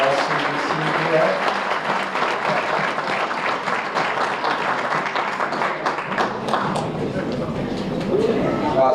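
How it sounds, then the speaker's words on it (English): Crowd applause at a high school basketball association banquet, loud continuous clapping that fades slightly midway while a few voices and chatter mix in beneath it. "let's give them one more round of applause"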